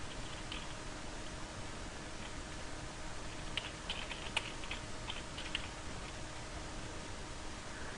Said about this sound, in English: you can type the message on the bottom right